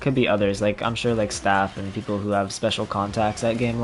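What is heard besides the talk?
No everyday noises stand out.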